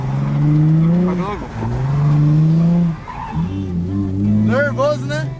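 A car drifting on a wet track in the rain, its engine revving in long loud sweeps that rise and fall, with tire noise mixed in, heard from inside the car.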